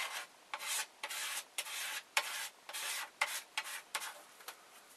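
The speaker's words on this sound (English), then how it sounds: "scrape up the excess" Excess material being scraped up with a card in a printer CNC build, a series of short rhythmic scrapes of roughly even spacing, close and fairly faint.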